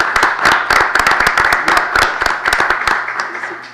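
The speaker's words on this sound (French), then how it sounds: "Est-ce qu'on peut applaudir, Mme Si?" An audience claps at a regular city council meeting in Chibougamau, Quebec, with sharp individual hand claps standing out from a moderate, fairly sparse round of applause that gradually thins toward the end.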